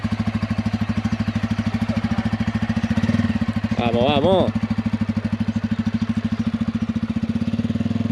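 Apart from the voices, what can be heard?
motorcycle engine riding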